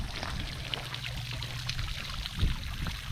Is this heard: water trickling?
yes